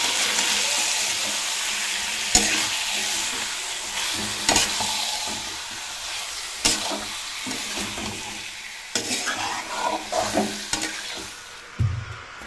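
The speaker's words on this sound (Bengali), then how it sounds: "এই পেঁয়াজ, আদা রসুন আর কাঁচা লঙ্কার সঙ্গে চিকেনটাও অল্প ভেজে নেব।" Chicken pieces frying with onion, ginger, garlic and green chilies in a pan, a steady loud sizzle broken by repeated sharp scraping stirs and clatters, with no talking.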